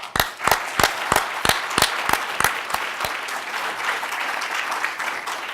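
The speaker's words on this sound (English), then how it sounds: "and a big applause." An audience applauds steadily at an event, loud and close, with the clapping starting in an even rhythmic beat before blending into a dense, continuous wash of hands.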